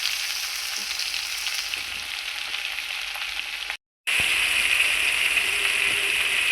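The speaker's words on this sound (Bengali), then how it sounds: "এই যে এদিকে আমি মুরগি ভাজা বসাই দিচ্ছি" Chicken frying in a pan gives a steady, close sizzle that hisses continuously, cut by a brief silent gap midway before resuming louder.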